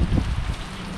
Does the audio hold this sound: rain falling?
yes